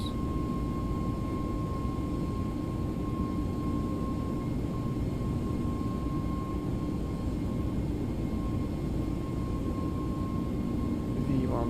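Jet engine roar of an Airbus A321neo on its takeoff roll in the X-Plane 11 flight simulator, a steady broadband rumble with a faint whine, continuous and even, with no talk.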